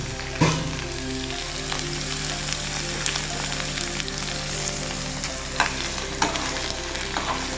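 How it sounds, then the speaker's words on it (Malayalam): Small onions and garlic sauté in a pan for an onion fish curry, a steady close sizzle running throughout, with a few sharp stirring clicks and scrapes of a spoon against the pan. "നന്നായി ഒന്ന് വാട്ടിയെടുക്കണം"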